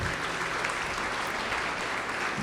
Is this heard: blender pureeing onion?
no